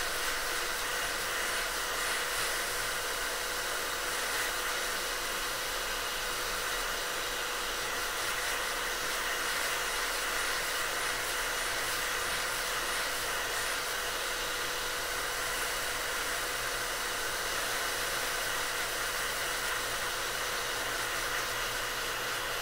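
A hot air rework station blows steadily on an iPhone XR logic board during microsoldering data recovery, a constant loud airy hiss with no pauses and no voices.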